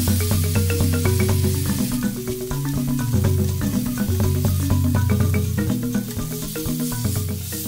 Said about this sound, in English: I heat a cast iron skillet and brown the beef